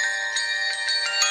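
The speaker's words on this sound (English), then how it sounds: "Hold on, my phone." A mobile phone rings with a bright electronic ringtone, a repeating melodic pattern of tones that plays loudly and alone with no voices over it.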